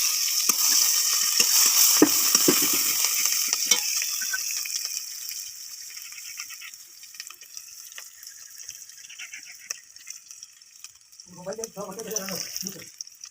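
Onion frying in hot oil in a kadai after green chillies, a loud broadband sizzle that surges early and then thins out, with someone talking over the last couple of seconds.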